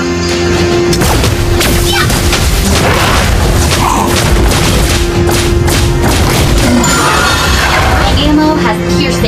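Repeated booming energy-gun shots from the hero Layla in Mobile Legends, loud and continuous amid dense game effects and music throughout.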